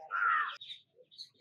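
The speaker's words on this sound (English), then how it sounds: "Look at the eagles, crows, or anything, any birds flying" Crows caw outdoors in a short burst, a loud harsh call followed by a few fainter, more distant caws, with no talking.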